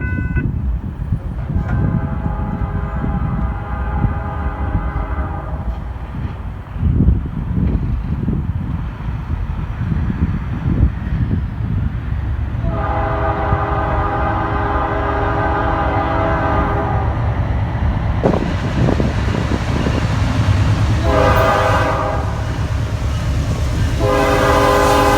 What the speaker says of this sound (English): I capture train 118 approaching CP Carolina with a very funky P5 horn on the leader